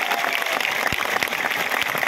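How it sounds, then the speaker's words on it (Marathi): A speech-rally audience clapping loudly and densely together, a sustained close burst of applause with no voices over it. "टाळ्या जोरात आवाज आला पाहिजे मला."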